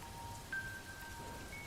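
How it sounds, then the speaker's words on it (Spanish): Rain patters against window glass in a soft, steady wash, faint and continuous with a quiet tonal hum in the background. "La lluvia seguía golpeando los cristales."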